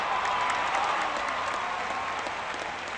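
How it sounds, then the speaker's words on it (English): A simulated crowd of Cardinals fans at Sportsman Park cheers and applauds in the baseball game OOTP18, a broad, steady roar of clapping that slowly fades over a few seconds. "To the applause of the Cardinal faithful here at Sportsman Park."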